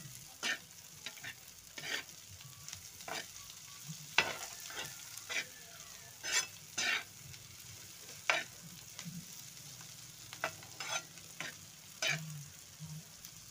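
Sliced onions and bitter gourd fry in a pan, a low steady sizzle broken by repeated scraping strokes of a spatula stirring at an uneven pace.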